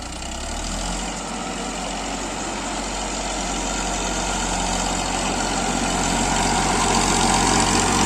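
A Massey Ferguson DI tractor engine strains steadily while pulling a heavy trolley up a slope, a loud, continuous low diesel drone that swells slightly toward the end, with no talk over it.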